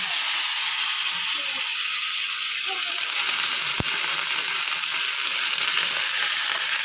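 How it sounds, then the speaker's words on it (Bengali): Hot oil in a wok fries ash gourd, potato and soybean with a loud, constant crackling hiss, broken once by a single sharp click midway. No voices. "কড়াইতে তেল দিয়ে দিয়েছি"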